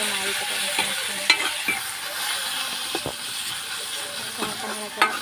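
Tomatoes and onions frying in oil in a pan, with a utensil stirring and scraping through them at intervals over a steady soft sizzle, heard close and alone.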